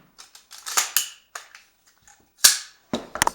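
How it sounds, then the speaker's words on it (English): A magazine is dropped from an AR-15 rifle indoors, giving a series of sharp metallic clicks and clacks, close and fairly quiet, with a louder snap near the end. "I'm going to drop this mag out."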